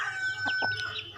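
Chickens clucking close by outdoors, a few short bursts of clucks over a steady low background with a faint tone running through.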